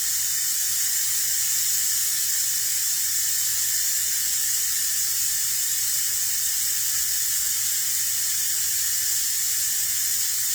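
Steady, loud hiss of steam rising from a pot of Southern greens cooking on the stove, continuous and unbroken throughout with no voices.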